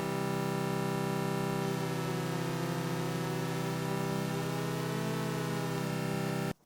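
A sustained synth chord whose top note is pitch-bent with the Alo Bend plugin, the upper voice gliding slowly over two semitones while the lower notes hold steady; a dense, static pad tone that holds evenly and then cuts off abruptly.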